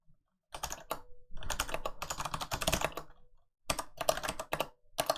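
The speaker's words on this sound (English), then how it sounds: "So I'm going to type this function in." Typing on a computer keyboard while entering code, with quick bursts of key clicks separated by short pauses, close and fairly loud and heard alone.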